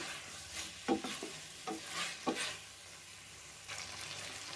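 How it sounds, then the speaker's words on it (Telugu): Broccoli frying in butter in a pan, stirred now and then, giving a faint steady sizzle with a few soft scraping strokes and no voices. "అప్పటి వరకు మధ్య మధ్యలో ఇట్లానే కలుపుతూ ఉండాలి మాడిపోకుండా"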